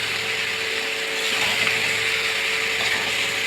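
An electric ceiling fan running in a home kitchen, producing a steady, even whirring hum with a faint tonal drone, continuous and uninterrupted with no voices.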